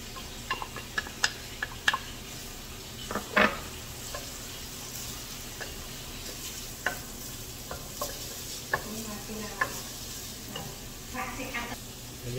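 Carrots frying with garlic in a pan, a steady sizzle with scattered clicks and scrapes of stirring throughout, close and moderately loud, with no talking.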